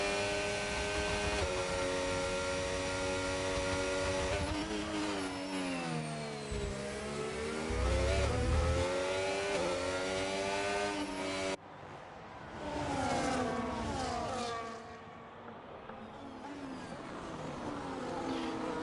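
Open-wheel racing cars in a video game lap the Melbourne circuit, their high-revving engines whining and sweeping up and down in pitch as they accelerate and pass, with an abrupt cut partway through.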